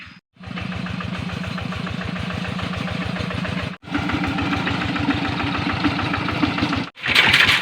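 A tractor engine chugs close by with a fast, even putter, cutting out briefly twice before picking back up.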